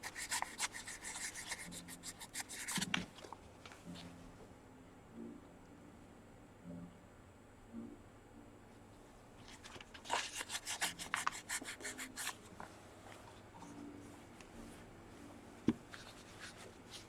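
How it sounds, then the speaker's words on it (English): A carved stone seal sanded by hand over soft padding: faint, scratchy rubbing strokes come in two clusters of bursts separated by quieter stretches with light handling noises. "So you can sand it like"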